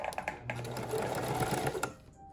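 A sewing machine back stitches a fabric face mask, its needle chattering in a steady close whir for about two seconds before stopping.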